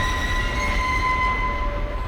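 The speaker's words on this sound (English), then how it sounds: "the sound of the train just gets really loud and intense" A train from the film The Lady Vanishes rumbles loud and steady, with a sustained high whistle-like squeal running over the roar.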